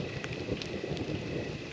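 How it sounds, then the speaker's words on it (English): Steady rain at a campsite hisses continuously on the surroundings, with a few light drop ticks over a soft, even wash of noise. "right there is rain."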